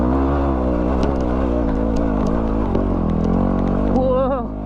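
A dirt bike engine revs hard and steady while climbing a steep hill at night, loud and close with a rising whine near the end, under a rider's excited talk.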